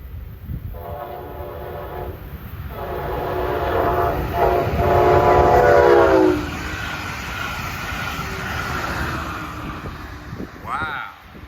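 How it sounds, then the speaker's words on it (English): A southbound Brightline passenger train on the Florida East Coast line in Sebastian, Florida sounds its horn in long, loud blasts while approaching at speed, then rushes past with a steady rumble of wheels that fades away. "Well, it's gotta be another Brightline train."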